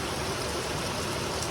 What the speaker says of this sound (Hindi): हाँ बहुत ज़्यादा बारिश हो रही है।